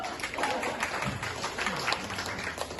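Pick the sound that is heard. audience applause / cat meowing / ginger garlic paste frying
audience applause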